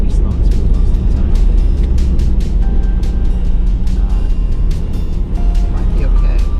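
2023 Ford Bronco Raptor driving slowly and smoothly on a snowy road, with a steady low engine drone and road rumble running throughout and faint ticking on top.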